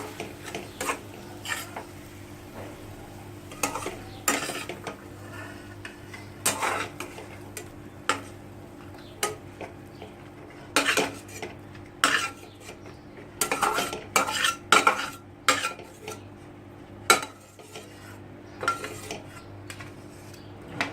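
Fried ingredients for momo chutney being spooned from a metal pan onto a plate, with repeated sharp scrapes and clinks of the spoon on metal coming in irregular bursts, close and clear, with no talking.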